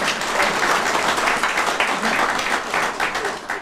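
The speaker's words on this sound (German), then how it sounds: "Applaus" Dense, steady applause from a crowd at an East German political event, many hands clapping continuously and evenly throughout, fairly loud and close.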